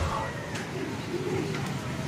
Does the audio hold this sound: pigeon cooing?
yes